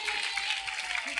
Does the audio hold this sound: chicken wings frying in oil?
no